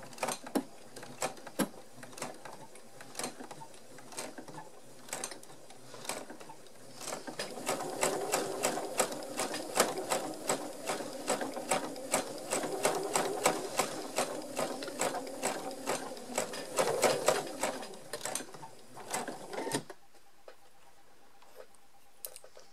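Sewing machine stitching a small fabric pouch, a rapid steady mechanical ticking of the needle in bursts, close and fairly quiet, stopping near the end with no talk.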